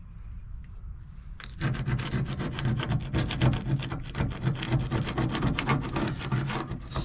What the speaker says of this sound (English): Start scraping.